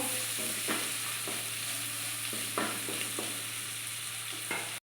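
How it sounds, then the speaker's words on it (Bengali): Ingredients fried with salt in a pan for cheera pulao, continuous moderate sizzle with intermittent scraping stir strokes, close and alone without speech. "দিয়ে দেবো একটু লবণ। এটাকে আমি খানিকক্ষণ ভেজে নেব।"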